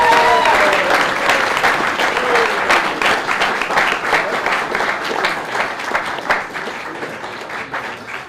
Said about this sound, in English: Let's give this team, this 21 Lancer team, a round of applause.